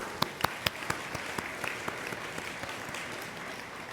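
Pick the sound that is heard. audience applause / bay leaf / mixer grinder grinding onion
audience applause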